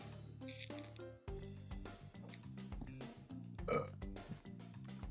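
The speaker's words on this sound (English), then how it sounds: "Oh, that was a puke burp." A single loud, gurgling burp rumbles out close up, followed by quieter scattered noises.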